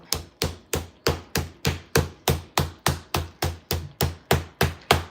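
A meat mallet pounds chicken flat for lime pepper skillet chicken, about fourteen sharp, evenly spaced thuds in steady rhythm, close and fairly loud with no talking.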